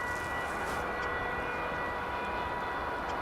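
UPS cargo plane taxiing at DFW Airport, bound for the Louisville hub: a steady, continuous engine rumble and whine, moderately distant, holding level throughout with no talk.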